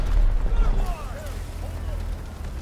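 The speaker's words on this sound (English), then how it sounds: "This is a mess, like so much explosions. So many explosions now." Explosions in Delta Force Hawk Ops gameplay, heavy low booms and rumbling blasts that fill the opening second and then fade into a busy battlefield din, with someone talking over them.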